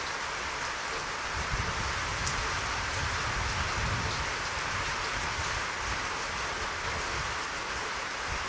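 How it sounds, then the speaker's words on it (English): Steady, heavy rain pours down in a continuous, dense hiss, with no voices. "the life-giving rain is sweeping in from the west"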